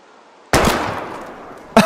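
A gun fires in an animated sniping scene: one sharp, loud bang with a long rumbling decay, then a second abrupt blast right at the end.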